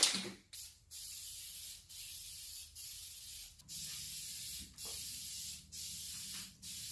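Aerosol spray paint on a piece of furniture being refinished comes in about eight short, sharp hissing bursts, each separated by a brief pause, close to the microphone over a low background hum.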